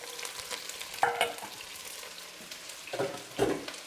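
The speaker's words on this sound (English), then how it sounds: "And as you can hear, it starts frying straight away." Onions frying in hot oil for beef goulash, a soft continuous sizzle with occasional louder scraping bursts from stirring, close but fairly quiet, with no voices.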